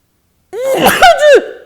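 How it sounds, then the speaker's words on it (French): A single loud, close sneeze bursts out after a moment of silence, with a sharp inhale before the explosive release. "Je vais éternuer dans pas longtemps, attention, préparez-vous."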